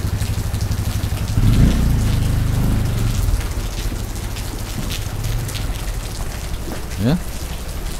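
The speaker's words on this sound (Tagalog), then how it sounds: "Malakas ang ulan, bumuhos." Heavy rain pours down onto a soaked, flooding street in a steady dense roar, while someone speaks briefly over it.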